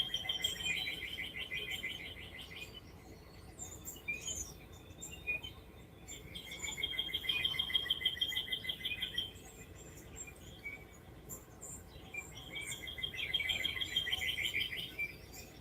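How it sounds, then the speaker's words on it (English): Wild birds sing outdoors in the morning, with bursts of rapid high trilling chirps repeating every few seconds over a faint steady background, moderately distant and without speech. "Boy, the birds are just flying everywhere this morning."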